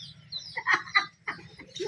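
Farmyard chickens kept at a village home, giving a few soft, short clucks in quick succession, faint and close by with no talk over them.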